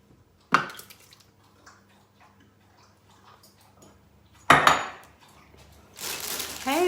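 Eggs cracked and dropped into a Thermomix bowl for a sweet potato quiche, heard as a few sharp, close clicks and knocks spaced apart, with a brief scraping rush near the end and no talk.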